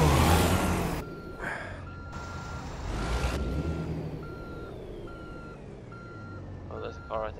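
In American Truck Simulator, a truck's reversing alarm beeps in a steady repeating pattern while it turns around, over low engine rumble, with someone talking and sighing intermittently over it.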